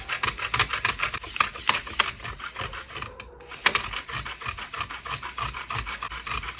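Small electric saw buzzing through a Lego stick, a steady close whirring rasp with rhythmic gritty pulses running throughout and a brief dip midway.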